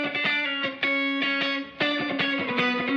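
Two snappy, distorted electric guitar tracks, each panned to one side with its reverb sent to the opposite side, play sharp, repeated chord stabs with a bright, roomy tail, loud and without any talking.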